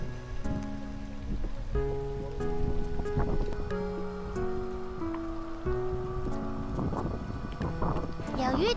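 Heavy rain pelts a small fishing boat out on the water in a steady, dense patter, while people talk over it and a low hum runs underneath.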